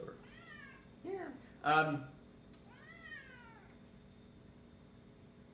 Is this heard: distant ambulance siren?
no